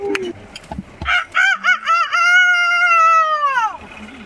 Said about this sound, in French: Le premier chant du coq réveille Epaminondas.